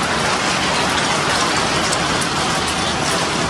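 Hailstorm in Noida, with hail pieces falling heavily onto a road: a dense, loud, continuous hiss and patter of countless impacts, steady throughout with no talk.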